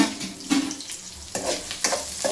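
Onion and tomato fry in a pan, a soft close sizzle broken by repeated short scraping stirs, no speech.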